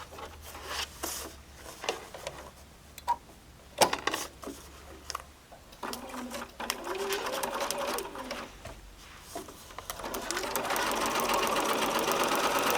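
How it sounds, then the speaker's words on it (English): A sewing machine whirs in bursts, stitching a quilt block seam, starting and stopping several times, then runs longer and steadier toward the end, close by with soft rustling between. "take it over to the sewing machine"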